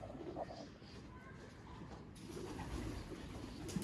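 Sialkoti pigeons give soft, low cooing calls, faint and intermittent beneath a quiet background hiss.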